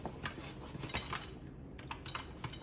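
A pot of popcorn kernels in hot butter is shaken on the stove, giving a faint, continuous rattling scrape with scattered clinks against the metal, close but quiet and with no talking.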